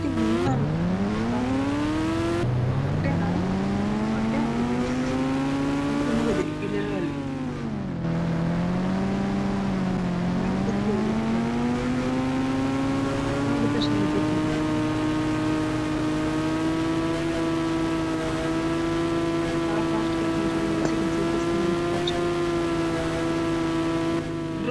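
A bike engine in an Indian bike video game whines and revs continuously, pitch sweeping up and down between gear-like shifts before settling into a steady high drone, loud and alone.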